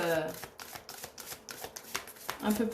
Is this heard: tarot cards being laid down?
yes